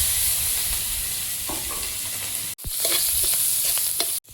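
Cumin seeds, sliced onion and slit green chillies crackle and sizzle in hot oil, a steady broadband frying hiss with stirring scrapes, briefly cutting out twice, no talking.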